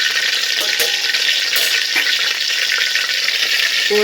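Onion and garlic frying in oil in a kadai, a loud, steady, close sizzle that continues without a break.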